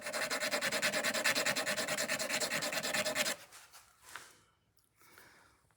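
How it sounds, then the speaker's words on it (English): Steady rhythmic rasping of a file and sandpaper smoothing a razor-thin sliver of metal left on cut guitar frets, loud and close for about three seconds before stopping, followed by faint handling noises. "It just leaves a little bit of a razor thin piece of metal there that is easily removed with the file."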